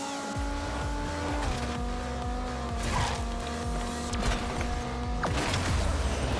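A racing car in a video game: its engine roars steadily and loudly while the tires squeal and skid, with tonal game music underneath.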